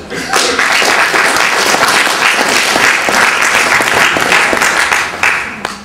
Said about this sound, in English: I think Mohammed Miah and all the generation that came to this country in the late 50s and early 60s, I think deserves a round of applause